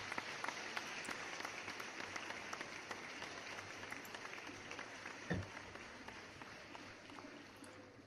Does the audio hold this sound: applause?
yes